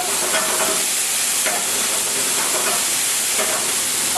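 Vegetables sizzle as they are stir-fried in a pan: a continuous bright frying hiss with a few soft scraping stirs, steady and close, with no talk over it.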